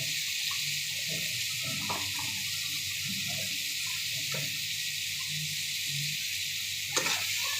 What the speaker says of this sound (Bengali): তেলে আগে ভেজে নিই ভিতরে আলুটাও ভেজে নেব